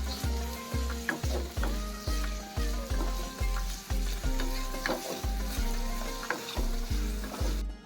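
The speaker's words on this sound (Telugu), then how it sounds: "ఇది దోరగా ఫ్రై చేసుకోవాలి" Dry spices for nalleru powder crackle and sizzle in a pan while a spoon scrapes and stirs in a steady rhythm, about twice a second.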